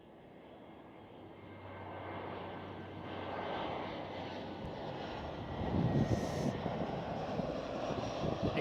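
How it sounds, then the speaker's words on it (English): An easyJet Airbus A319 jet passes at Amsterdam Schiphol, a distant engine rumble that slowly swells louder as it approaches. "By looking more up close, I say it's an A319 instead of an A320."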